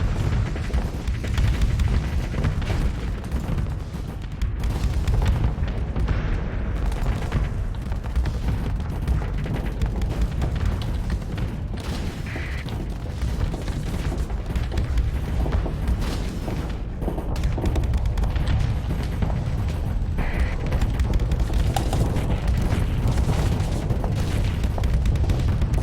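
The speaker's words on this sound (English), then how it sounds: "How many torpedoes did that guy just launch at me?" Torpedo strikes exploding against a ship in the space combat game Starsector, a dense barrage of deep booming blasts and rumbling impacts rolling on continuously with brief gaps, loud and heavy.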